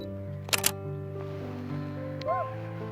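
A Canon M50 shutter fires once, a quick cluster of crisp clicks heard up close over a steady background hum, with a faint chirp afterward.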